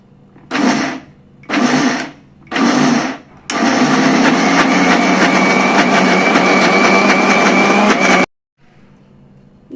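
Mixer grinder whirring urad dal with ice water into fluffy batter for bonda, three short pulses followed by a long steady loud motor run that cuts off abruptly, no talk.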